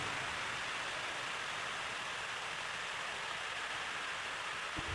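Steady broadband hiss of rain falling throughout, dense and continuous like a downpour on a surface, with no voices present.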